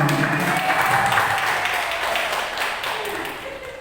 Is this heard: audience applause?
yes